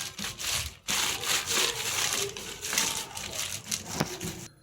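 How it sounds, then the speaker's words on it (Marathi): A rolling pin rolls peanut chikki flat on a sheet of paper, a steady close scraping and rubbing that continues for the whole stretch with short pauses. "याच्यावर मी पेपर ठेवते आणि लाटून घ्यायचं."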